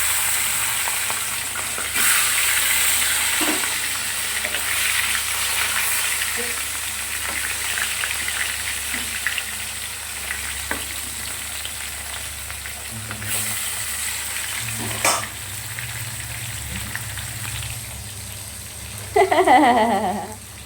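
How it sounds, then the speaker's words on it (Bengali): Fish frying in oil in a wok gives a continuous close sizzle with occasional stirring clinks and a brief louder burst near the end; no talking. "সবার প্রথমে মাছগুলোকে ভেজে নেবে, আর মাছগুলো না একটু কড়া করেই ভাজবো।"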